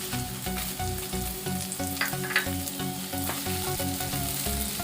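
Small onions and dried chillies fry in sesame oil for a chutney. A constant close sizzle carries a few brief stirring scrapes, with a steady tonal backing beneath and no speech.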